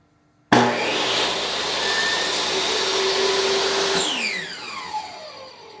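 Saw cutting a wooden stick to make beehive entrance reducers: a machine starts abruptly into a loud, steady broadband roar of cutting, then winds down with a falling whine after the pass, close and without voices.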